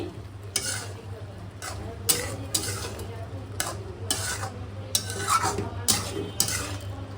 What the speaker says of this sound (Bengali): এই যে আমার হচ্ছে ফ্যাপসা রান্না অল্প আছে রান্না করছি, তো ভালো করে কষাই নিচ্ছি।